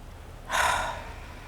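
A group inhales together during a guided spiritual prayer gathering: a single soft, breathy swell of air lasting about half a second, fairly close, with quiet room tone before and after and no talk.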